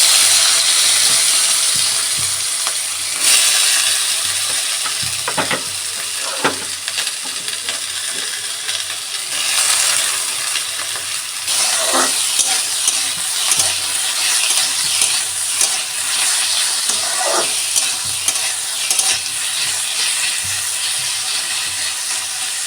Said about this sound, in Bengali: রান্না বলতে আজকে দুপুরবেলা শুধু আলু ভাজা করেছি, একটু মোটা করে আলু ভাজা করেছি।